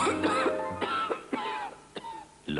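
Several hoarse coughs and throat-clearing bursts in a Swiss television advert for a cold remedy hot drink, coming in quick uneven fits, close and fairly loud.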